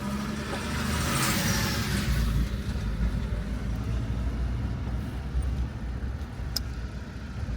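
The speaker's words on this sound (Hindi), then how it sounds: "ट्रक देखो कैसे निकल के आया" A truck rumbles along a broken, partly collapsed mountain road on the way to Yamunotri, its engine a loud, continuous low drone close by, with wind-like roar and no voices.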